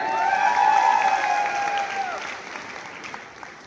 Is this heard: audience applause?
yes